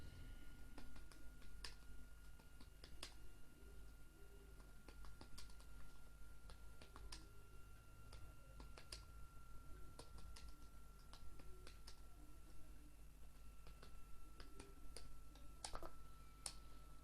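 Soft, quick keystrokes on a computer keyboard tap out in irregular bursts over a faint steady hum. The sound is quiet and close, with no talking.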